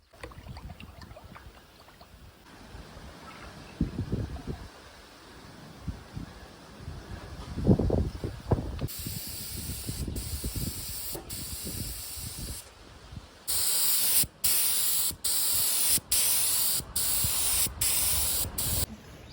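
Bursts of spray-gun hissing as a car is painted outdoors in wind, repeated short blasts growing louder and steadier toward the end, with some handling noise and rustling between sprays.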